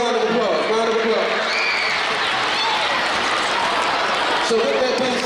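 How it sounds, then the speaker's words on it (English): Audience applause at a community event at the Clayton County PAC Center, a dense steady wash of clapping with some voices mixed in, holding for several seconds. "y'all give yourselves a round of applause"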